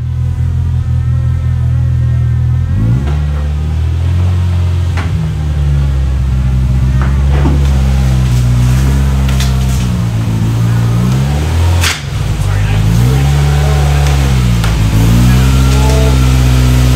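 2022 Polaris RZR Pro R side-by-side driving into a trailer, its engine a loud, close, steady rumble that rises and falls as the throttle is blipped, with a brief dip near the end.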